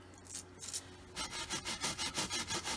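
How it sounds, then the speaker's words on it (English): A brush scrubs spot cleaner into a stained car seat, making a close, steady back-and-forth rasping scrub that starts after a brief pause and settles into a quick even rhythm, with no talking. "We just scrub it in a little bit to the spots that need it, like this."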